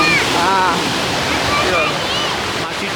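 Water pours steadily over a small overflowing waterfall at a pond in Thurkapally where little fish swim, a loud continuous rushing wash, with a voice talking over it.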